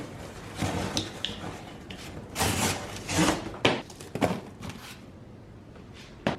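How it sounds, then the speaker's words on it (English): Sheets of cardboard are laid onto compost in a worm bin, giving irregular rustling, sliding and scraping bursts close by, with quieter pauses between. "Now I'm going to go through here and put some cardboard."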